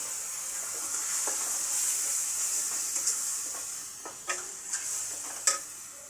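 Onions sizzling in hot oil in a pan for chicken curry, a steady frying hiss with occasional stirring scrapes and a few sharp crackles toward the end.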